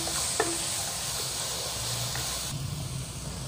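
Onions or aromatics sautéing in a hot pan for Jaffna-style mutton curry give a steady, close sizzling hiss throughout, with a couple of faint utensil clicks near the start.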